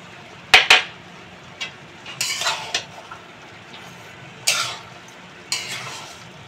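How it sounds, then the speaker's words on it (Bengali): Cooked rice being stirred with sugar in a pan, a metal spoon scraping and clinking against the pan in irregular bursts over faint sizzling, close and without talk. "চিনিটা দিয়ে ভালো করে ভাতটাতে পুরো একদম মাখিয়ে নেব।"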